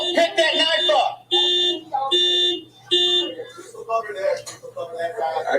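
A house alarm beeps in repeated loud, evenly spaced electronic tones during a police encounter in Louisville, while people shout over it.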